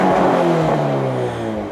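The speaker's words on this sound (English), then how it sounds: "and then we just rev the piss out of it" A Subaru BRZ engine, held in first gear with the clutch down for launch control, revs hard and loud, its note climbing and then holding a strained high drone up close.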